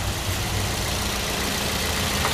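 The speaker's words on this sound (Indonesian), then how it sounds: "pastikan suara mesinnya halus, adem dan nggak terdengar suara-suara aneh" A used car's engine idles steadily with a low, even rumble and no voices, holding at a constant level throughout.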